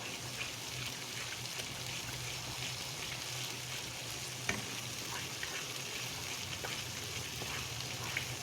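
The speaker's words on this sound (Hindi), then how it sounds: "अब इसको अच्छी तरह भूनेंगे" Gravy masala for kofta curry, with cumin and coriander in it, sizzles and fries steadily in a pan, a constant crackling hiss with small pops and stirring scrapes.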